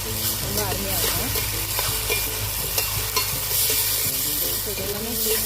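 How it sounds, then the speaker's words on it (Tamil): Mutton pieces with ginger sautéing in ghee for a chukka, a steady close sizzle with repeated scraping stirs of a spatula against the pan, no talk. "இது எல்லாமே சேர்த்து நல்லா வதக்கிக்கணும்."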